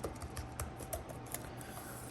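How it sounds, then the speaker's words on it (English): Fingers typing on an Apple keyboard case for an iPad, a faint, steady patter of soft key clicks at an irregular quick rhythm, heard alone without speech. "I do a lot of typing."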